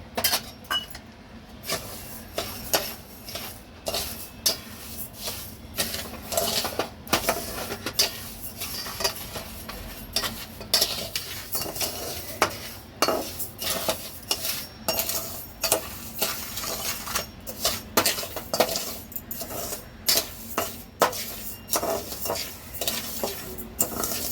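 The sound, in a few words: sugar being caramelized and stirred in a pan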